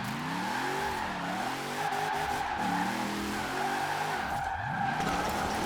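Car drifting in Forza Horizon 4, with a loud sustained tire squeal and skid sliding up and down in pitch over a revving engine that swells and dips through the slide.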